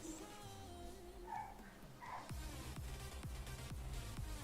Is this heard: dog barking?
yes